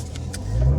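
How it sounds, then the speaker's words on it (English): A 2014 Chevrolet C7 Corvette Z51 in Lime Rock Green driving, its engine note rumbling low and swelling louder near the end of a brief moment, with no talking. "today we're driving a 2014 C7 Corvette"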